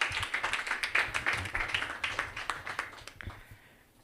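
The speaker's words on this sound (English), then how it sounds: "Please give him a round of applause." Audience applause for a questioner at a conference, brisk clapping with distinct rhythmic claps that tapers off and fades toward the end.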